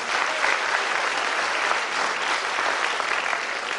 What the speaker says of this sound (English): Chalo yaar, zordar taaliyan bajao, come on.